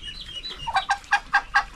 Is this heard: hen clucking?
yes